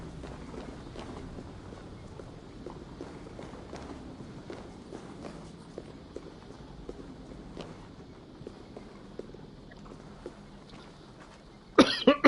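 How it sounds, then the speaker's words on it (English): A person coughs close to the microphone over quiet, steady background sound while playing Assassin's Creed Valhalla on PS5, with a sharp, loud burst of coughing near the very end. "Sorry about the coughing."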